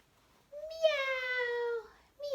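A voice imitates a cat's meow during a children's storytime rhyme about a little kitty: one long, drawn-out meow, then a second that begins just before the end, both clear and close in a quiet room.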